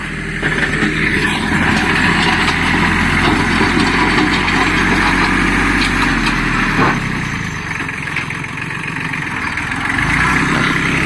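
A Kubota B1600 small tractor engine idles steadily and loudly up close, a continuous rattling chug that dips slightly before picking back up.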